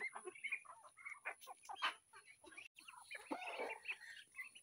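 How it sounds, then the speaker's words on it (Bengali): Yellow and red backyard hens cluck and chatter nearby in a garden yard, a quiet series of short irregular calls with brief pauses between them. "আর এই যে হলুদ মুরগ তো থাকবেই, ওই যে লাল মুরগ আবার আরেকটা বড় হইতেছে লাল"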